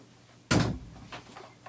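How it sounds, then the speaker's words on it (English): A door is shut with one loud, sharp thud, followed by a quieter rattle and faint settling clicks in an otherwise quiet room. "Let me close the door."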